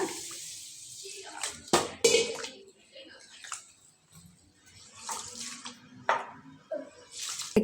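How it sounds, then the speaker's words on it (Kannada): Ration rice being washed by hand in water, with intermittent splashes, swishes and drips coming in short bursts and pauses, close by and fairly quiet. "ಒಂದು ಮೂರಿಂದ ನಾಲ್ಕು ಸಲ ಕ್ಲೀನಾಗಿ ನಾವು ಅಕ್ಕಿನ ತೊಳ್ಕೊಬಿಡೋಣ"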